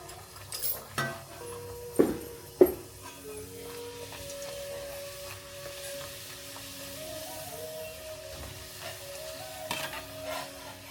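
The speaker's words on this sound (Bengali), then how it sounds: "কড়াতে পুরি হচ্ছে ফুলে ফুলে" Puris fry in hot oil in a kadai with a steady sizzle. A few sharp metallic clinks from a utensil against the pan stand out near the start, and a faint tonal hum runs underneath.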